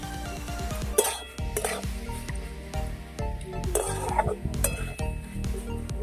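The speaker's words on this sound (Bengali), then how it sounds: "মশলাগুলোর সাথে সবজিটা একটু এক থেকে দু মিনিট কষিয়ে নিচ্ছি" Vegetables and spices are stirred and fried in a pan in a village kitchen, with a steady low sizzle under repeated scraping and clinking strokes of a utensil against the pan, close and moderately loud, no voices.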